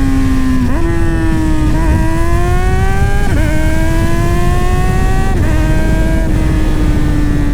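A 600cc motorcycle engine revs hard and loud up close, its pitch rising and dropping in repeated swells over a steady roar, picked up by the front mic of an Insta360 X5 camera.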